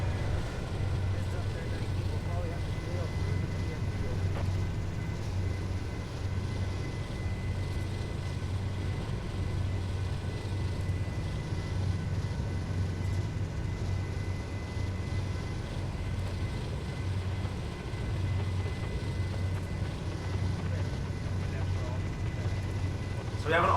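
Freight train locomotives pull at near full throttle up the steep Cajon Pass grade, a heavy, steady diesel rumble that holds without letting up for the whole stretch, with faint background noise.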